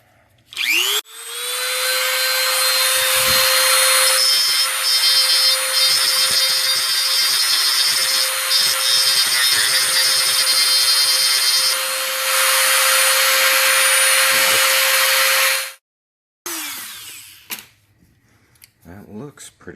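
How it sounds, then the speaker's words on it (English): A high-pitched power tool whines steadily for about fifteen seconds while grinding down a metal lip inside a Walther P22 barrel, starting with a rising spin-up and ending with a sudden cutoff, followed by faint handling sounds. "I'm just going to go like this and grind that sucker down flat."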